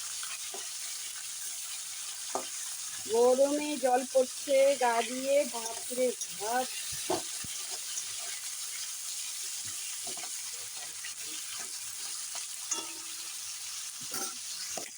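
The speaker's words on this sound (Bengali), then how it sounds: "এখন আস্তে আস্তে করে উল্টে পাল্টে ভেজে নিলাম" Rohu fish heads fry in hot oil in a pan and get turned over, a steady faint sizzle broken by scraping clatters and someone speaking over the cooking.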